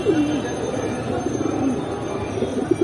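Pigeons coo at a pigeon market: soft repeated throaty calls stand out near the start and near the end over a busy crowd murmur.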